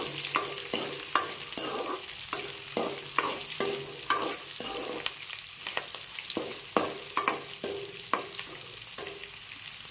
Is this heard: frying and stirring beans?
yes